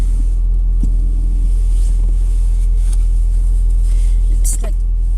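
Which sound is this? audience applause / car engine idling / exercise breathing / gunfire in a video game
car engine idling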